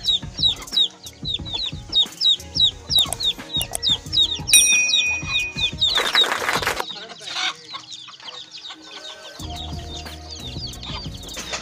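Several Aseel chickens cluck in quick, choppy bursts close by, with a few sharper squawks and some background farmyard noise.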